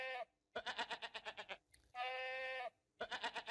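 A goat bleating up close: loud, quavering calls repeat in bursts separated by brief pauses, one drawn-out steady bleat in the middle, with no other sounds around them.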